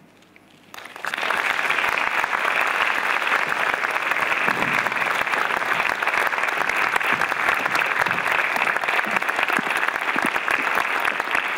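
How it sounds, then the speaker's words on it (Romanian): An auditorium audience at a university honorary doctorate ceremony bursts into sustained, loud applause after a near-silent second, the dense clapping continuing steadily to the end. "Vă rog să vă ridicați și bineînțeles să continuați să aplaudați"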